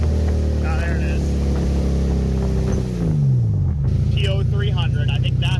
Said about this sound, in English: I think that's a misfire.